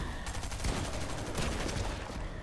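Rapid gunfire in an online shooter video game, dense overlapping bursts of shots aimed at the player, steady and fairly loud across the whole stretch with no talking.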